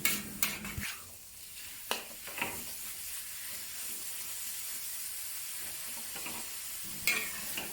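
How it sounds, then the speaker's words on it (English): Minced beef stir-fried in a wok with garlic and chili, a steady close sizzle with a few sharp scrapes and clanks of the spatula against the pan, no talking. "Keep stir frying until the meat starts to cook and releases the juice."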